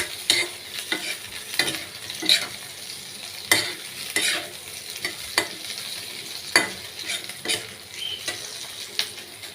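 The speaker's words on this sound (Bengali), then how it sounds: "পেঁয়াজ দিয়ে একটু নাড়িয়ে চাড়িয়ে নেব।" Onions, garlic and ginger are stirred and fried in a pan for paneer chilli, with a steady sizzle broken by repeated sharp scrapes and knocks of the spatula at an irregular pace, close and fairly loud, with no talking.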